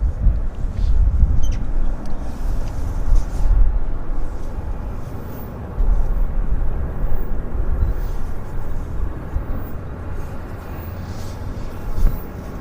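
An Air Canada heavy jet passes at Vancouver airport, a steady low broadband engine roar filling the scene with slow swells in loudness rather than distinct events.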